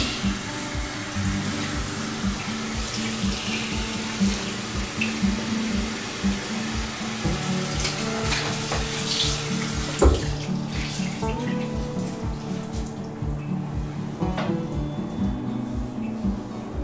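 A tap runs steadily into a sink as a child washes hands and face, a continuous close splashing gush with small shifting spatters as the hands move through the stream, no voices over it.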